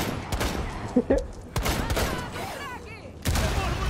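Rapid bursts of sniper and other gunfire in a video game zombie outbreak mode crackle in quick succession over a busy, noisy background, with several short volleys and pauses.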